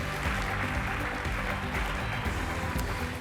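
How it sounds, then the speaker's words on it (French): At the PERL 2022 award ceremony, an audience applauds the prize winners with a dense, steady clatter of clapping that holds at an even level throughout. "on peut encore les applaudir"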